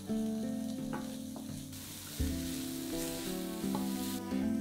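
Diced carrot and mushrooms frying in a pan for a homemade lasagne, a steady close sizzle running throughout with music playing over it and no talking.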